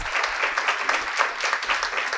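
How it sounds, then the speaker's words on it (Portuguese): Audience applause for panelists at an education and digital citizenship seminar: lively, close clapping from many hands with slightly uneven bursts, continuing steadily throughout without speech. "Mais uma salva de palmas para essas painelistas."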